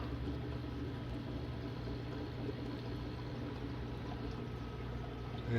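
Water spilling over the edge of a bucket bog filter into a garden pond, a steady continuous trickling and pouring wash, fairly faint and unbroken, with no voices over it.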